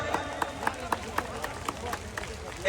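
Audience at a Ram-Sita tilak ceremony for Vivah Panchami in Janakpur clapping in a steady, fairly even rhythm, the claps crisp against a murmuring crowd and voices.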